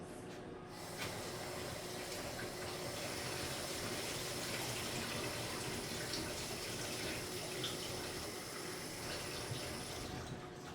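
Water pours steadily into a bread dough mixture for cinnamon bread, a continuous faint splashing rush that lasts about ten seconds without pause and with no talking.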